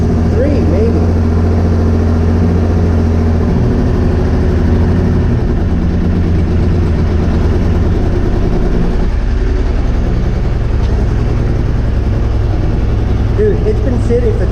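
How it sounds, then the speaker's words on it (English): A 1995 Honda Africa Twin motorcycle that sat unused for about three years runs with a loud, close, steady engine drone that stays rough and constant throughout, with voices talking over it. "the bike just started up, no issues"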